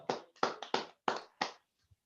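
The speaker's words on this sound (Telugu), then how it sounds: "మరి సార్కి ఒకసారి అందరూ బిగ్ క్లాప్స్ ఇద్దాం" A handful of quick claps for a speaker in a Zoom meeting land as six sharp, uneven bursts over about two seconds. They sound faint and thin, then trail off into a soft last tap.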